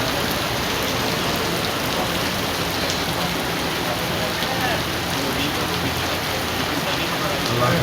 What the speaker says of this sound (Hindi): माशाल्लाह फुल तेज़ बारिश लाहौर की पहली बारिश अज जी है